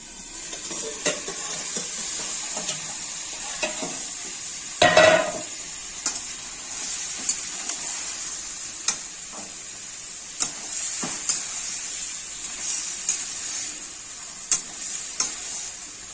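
Mutton curry with potatoes fries in a covered pan, a steady moderate sizzle broken by frequent sharp clacks of a utensil against the pan and one heavier thump.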